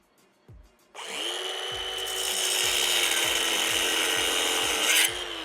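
A cordless cutting tool slices through the subframe of a 350Z Formula Drift car during a Wisefab kit installation, giving a loud, steady, close grinding whine with faint repeated low knocks underneath; no one speaks.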